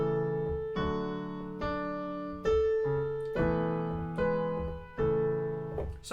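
Block chords sketching fugue harmony are played on a keyboard as a slow series of sustained chords, about eight of them, each struck cleanly and left to ring and fade before the next, with no talk.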